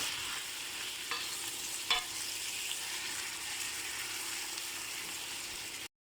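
Pancit noodles are stir-fried with toasted garlic, onion and ginger in a steady, close sizzle, with a few utensil scrapes and knocks early on before the sound cuts off abruptly near the end.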